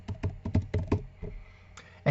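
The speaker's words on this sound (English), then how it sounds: "I just start typing," Quick bursts of typing on a computer keyboard into a search box, about eight close key taps in a brisk run, a short pause, then a few more.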